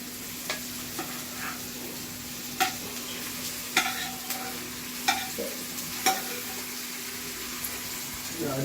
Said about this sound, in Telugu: ఇప్పుడు నేను ఇందాక కలిపి పెట్టుకున్న చికెన్ని యాడ్ చేస్తున్నాను ఇందులో.